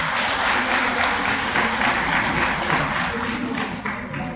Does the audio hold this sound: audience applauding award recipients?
yes